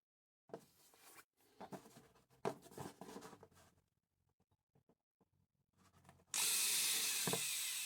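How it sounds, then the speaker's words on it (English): Small holes are drilled into the circuit board of a 1939–1940 Philips Aachen Super D60 radio, with scraping and tool handling in bursts and then a loud, steady whine of a close drill. "I judged it safer to drill those unused holes to remove any trace"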